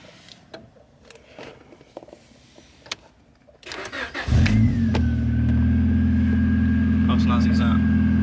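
A Honda Civic EK4 VTi, fitted with two stop-start buttons, turns over and fires up after a few clicks and knocks, then settles into a steady close idle with a faint whine, while a person talks at the start.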